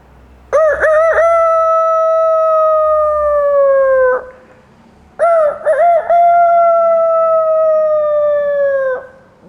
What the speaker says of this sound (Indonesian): Pagi hari, suara ayam berkokok.